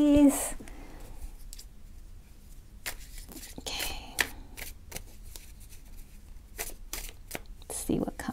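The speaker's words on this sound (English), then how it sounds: "We're going to shuffle these." A deck of tarot cards is shuffled by hand in several short riffling bursts, close and faint, with a brief spoken word at the start.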